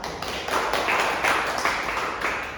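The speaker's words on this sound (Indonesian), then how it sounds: "Tepuk tangan untuk Irwan." A class of students gives a short round of applause for a classmate in a financial-reports lesson: many hands clap in a steady, fairly close, moderately loud patter with no talking over it.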